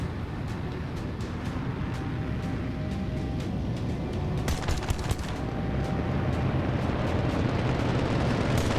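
Heavy gunfire pounds a fortress in the Ultrawings 2 flight game, a dense, continuous barrage of rapid shots and booming blasts with sharp cracks standing out near the middle, sustained and loud throughout.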